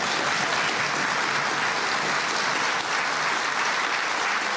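Loud, steady applause from a television studio audience fills the whole stretch without a break.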